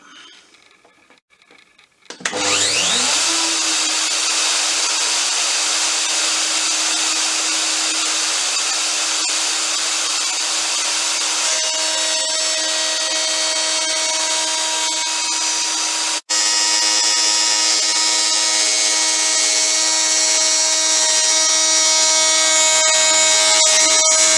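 A panel saw converted into a jointer-planer switches on and spins up to speed, then holds a loud, steady whine with a bright tonal hum that stays constant throughout, alone without talk.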